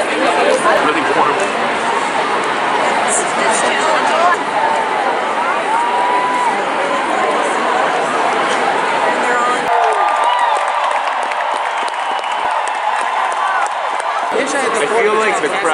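Dense crowd chatter fills a large outdoor gathering at the Women's March, many voices overlapping continuously at moderate loudness, with a brief dip in the low rumble partway through.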